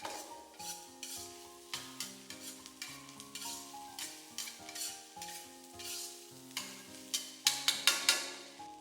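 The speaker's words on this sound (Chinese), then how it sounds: "再倒入炸好的鸡胸肉，继续大火快速翻炒" Fried chicken breast pieces and chopped green peppers tossed in a wok over high heat: a steady sizzle under repeated rhythmic scraping and clacking of a spatula against the pan, growing busier and louder toward the end.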